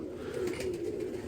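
A male broad-winged pigeon coos softly: a low, steady, throaty tone held for just over a second, faint against a dull background hum.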